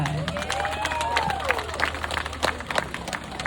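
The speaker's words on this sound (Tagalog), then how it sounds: "Kaya naman, wala hubang palakpakan dyan." Applause at a gay beauty pageant in Barangay Valenzuela, a steady mass of clapping with crowd murmur and a few cheers, moderately loud and continuous throughout.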